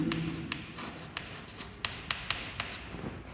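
A pen writes on paper during an accounting lesson with a quick series of light scratches and taps. The strokes come in short irregular bursts, close and quiet, with no voice over them.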